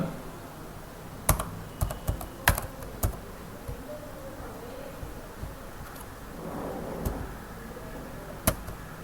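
Someone types on a computer keyboard while filling in a ration card form, with scattered key taps and a few sharper clicks over a steady low background hiss.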